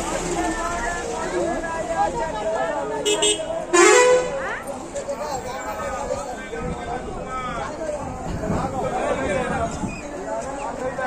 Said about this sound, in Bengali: তবে এরকম হর্ন দেওয়াই ভালো। দিলাম এটা